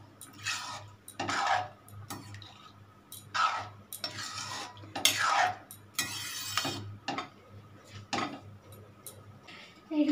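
A utensil scrapes and taps against a pot in irregular strokes while spice mix is stirred into ghugni cooked with onion and garlic, close and moderately loud with no talk.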